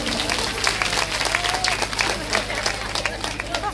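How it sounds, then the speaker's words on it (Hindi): Audience applause at a seven-day Bhagwat katha in Khoda, Noida, a loud sustained burst of many hands clapping with crowd murmur mixed in. "आप सब लोगों के लिए जोरदार ताली।"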